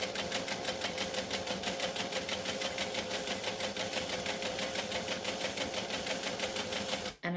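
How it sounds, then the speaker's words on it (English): A sewing machine stitches along the edge of a wallet, an eighth of an inch in, with a steady rapid mechanical chatter that runs close and loud throughout and stops abruptly at the very end. "And I'm stitching 1/8 of an inch from the edge"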